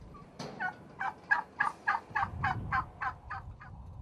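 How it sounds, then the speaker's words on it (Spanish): A male Oscense turkey, a medium-sized rare Spanish breed, gobbles in a rapid rhythmic series of about a dozen pulses, fairly close and clear over quiet background. "esto es un macho de pavo oscense"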